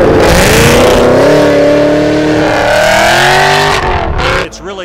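A Trans Am 455 Super Duty fitted with a NASCAR racing engine revs loudly and steadily with a rising, sustained roar close by, then drops off abruptly near the end.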